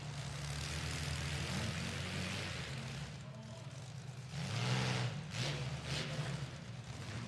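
Race car engines rev at the start line of a G body versus W body and Mustang heat, a steady droning roar with rising and falling revs, moderately distant under crowd ambience.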